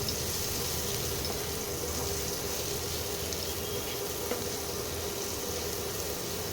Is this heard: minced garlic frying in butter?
yes